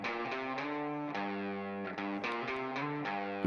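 Two distorted supporting electric guitars play a riff on their own, their chords chugging with a steady rhythmic attack, dense and fairly quiet, with no other instruments or talk.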